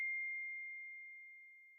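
The iOS 17 default Note text tone plays as a single pure, bell-like sine tone that sounds clearly at onset and then slowly decays, alone in silence.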